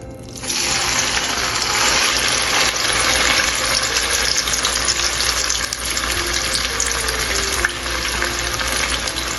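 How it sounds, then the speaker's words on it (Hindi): Mustard greens and spinach hitting hot oil in a pot set off a loud, sudden rush of hissing sizzle that holds steady and close, a faint tonal hum beneath it. "इसमें बस हो जाता है ऑयल गरम, तो इसमें डालते हैं फिर साग को डाल देते हैं।"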